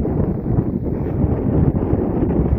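Strong wind buffets a microphone outdoors near a white-sand beach on a trip to Wellington, a loud, continuous low roar with gusty swells throughout and no voices.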